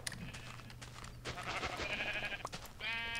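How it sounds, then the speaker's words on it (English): Sheep in a block-building video game bleating, a few short nasal bleats scattered over a soft background hum, with a sharper, buzzier bleat near the end. "Ooh, brown sheep, poop sheep."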